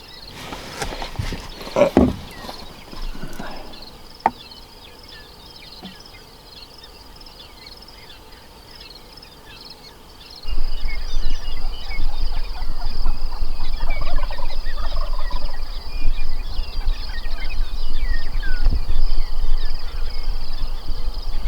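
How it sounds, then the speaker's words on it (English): A wild turkey hen yelps in the evening woods during spring turkey season, a series of distant calls over a constant hum of insects and low rumbling background noise. "There's a hen yelping."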